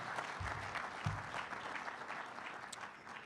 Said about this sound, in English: Some more applause for our sponsors.